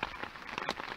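Steady rain patters on a surface close by, a dense hiss broken by soft, irregular drop taps, with no voices over it.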